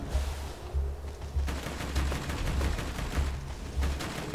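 Rapid turret gunfire in the video game Borderlands 2, loud bursts of automatic shots in a steady pulsing rhythm with heavy low thumps, continuing without pause and with no talk.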